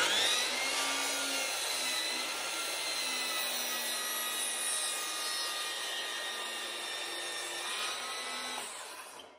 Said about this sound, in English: we'll get the miter saw fired up and we'll see about changing the angle at the bottom of this board